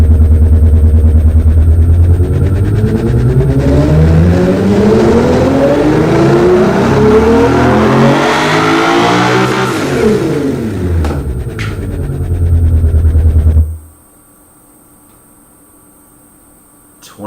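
A car engine running rich on a power test revs up in one long rising and falling sweep, loud and close, then cuts off abruptly into near silence.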